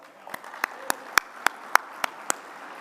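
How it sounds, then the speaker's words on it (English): A handful of sharp, distinct claps ring out at a steady pace, a small scattering of hands greeting the sponsors at an award ceremony rather than full applause. "please give them a round of applause."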